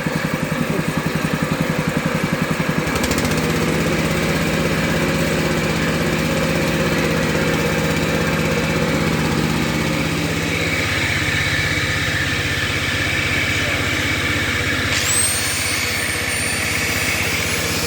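A walk-behind tractor engine paired with a circular saw drives a generator, running loud and steady with a rhythmic chug whose pitch drops and settles partway, then a rising whine enters near the end.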